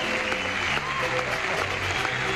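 Game show studio audience applauding steadily and loudly throughout, with faint talk and some musical tones underneath.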